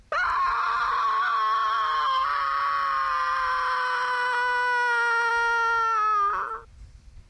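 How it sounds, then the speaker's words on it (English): A long, sustained scream from a character in the PlayStation 2 port of Half-Life, matching the Jedi Knight 2 scream: one loud, unbroken wail with a slight wavering pitch, holding for about six seconds before breaking off and fading. "I wonder if the Jedi Knight 2 scream is a reference to that."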